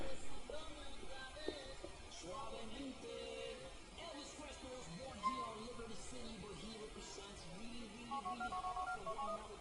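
In the video game GTA IV, Episodes from Liberty City, a phone dials a call with short electronic tone beeps, faint under game music and someone talking.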